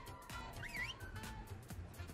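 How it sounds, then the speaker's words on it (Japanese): A short whistled tune in a video game rises and falls once, clear and mid-loud, over a steady background of in-game ambience. "口笛めっちゃ聞こえてくんだけど。"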